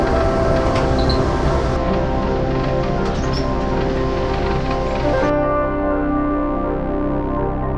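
Passenger train arriving at Washington station, heard from inside as a steady, loud low rumble with a constant hum and no talking.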